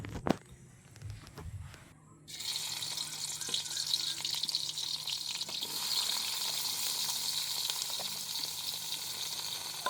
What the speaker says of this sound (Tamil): வெங்காயம் கொஞ்சம் நேரஞ்சலும் நல்லா வதங்கட்டும்.